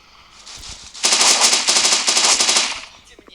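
Rapid machine gun fire in a mobile shooter game, one close, loud sustained burst of evenly spaced shots lasting about two seconds, with quiet sounds before and after.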